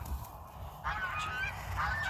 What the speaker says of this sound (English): Oh, yeah, the geese are right there.